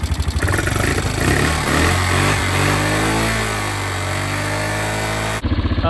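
A Yamaha Grizzly 450 ATV engine runs loud and close just after starting, a rough, steady idle with a slight rise in pitch, cutting off abruptly near the end.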